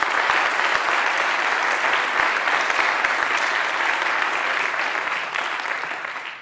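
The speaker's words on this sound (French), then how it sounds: "d'abord applaudissements," A congress audience in Lyon applauds two departing colleagues, a dense, steady wash of clapping from a large crowd that holds at full strength and tapers slightly in the last second.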